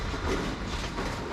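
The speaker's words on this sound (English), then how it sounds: "my Class 805 Evero unit finally pulls into the platform" A Hitachi Class 805 Evero five-car train pulling into a station platform gives a brief, steady, broadband rolling rumble at moderate level, with no talking.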